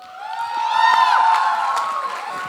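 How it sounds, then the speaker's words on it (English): An audience at a personality contest cheers and whoops as a contestant is called to the stage, a loud sustained crowd roar with shrill tonal cheers swelling in the middle and easing off toward the end. "please give a huge round of applause for Arav Mathur"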